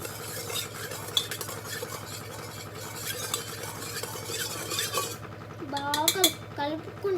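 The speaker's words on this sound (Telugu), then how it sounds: "బాగా కలుపుకున్న తర్వాత అయిపోయింది మాది షరబత్" A spoon stirs sharbat with seeds in a glass, giving continuous swirling and clinking close by, with a few sharper taps near the end; no speech.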